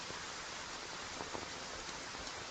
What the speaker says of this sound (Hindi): इतनी बारिश है, थोड़ा और रुक जाएं।